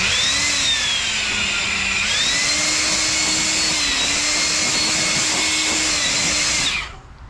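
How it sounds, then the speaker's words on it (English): Compressed air hisses in one loud, continuous blast across a Corvette C6 dashboard trim piece, its pitch shifting slightly as the nozzle moves, before cutting off abruptly near the end. "Before we go crazy, let's blow the dust off."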